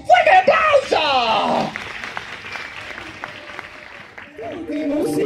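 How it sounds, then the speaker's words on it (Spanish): A live audience at a children's music show at Tecnópolis 2016 applauds, with a voice calling out loudly over the clapping and a burst of music near the end. "¡Fuerte el aplauso!"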